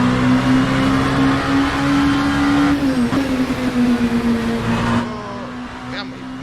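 A car engine in the Assetto Corsa VR racing game holds a steady, droning pitch at speed, dipping slightly and revving on before fading near the end, with a person talking over it.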